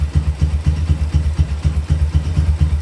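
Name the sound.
Honda Tiger motorcycle engine idling after carburetor tuning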